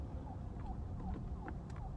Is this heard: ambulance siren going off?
yes